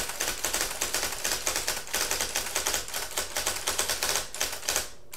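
An IBM Selectric electric typewriter typing, a fast, steady stream of crisp, close key strikes and clacks with brief pauses, loud and alone.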